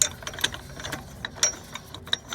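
Ratchet wrench on a Volkswagen Golf 7 suspension link rod being removed, a quiet run of short metallic clicks and ticks in an irregular rhythm, close up with no talk.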